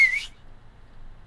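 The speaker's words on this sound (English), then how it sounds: "today I'm gonna be showing you how you can whistle with your fingers" A short, sharp finger whistle sounds once at the start, loud and close, then fades into near silence.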